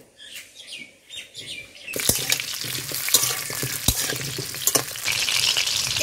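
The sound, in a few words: frying cut potatoes in oil in a kadai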